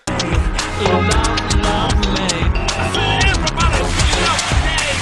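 A dense, punchy electronic pop track with steady beats, layered synths and a sung vocal line, loud and continuous throughout.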